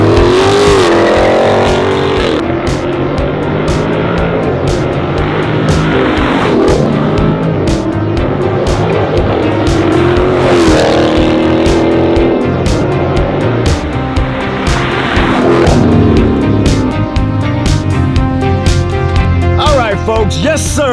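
A Dodge Challenger 392 T/A engine roars and revs repeatedly in sport mode, rising and falling as it accelerates hard, loud and close throughout, with some talk mixed in.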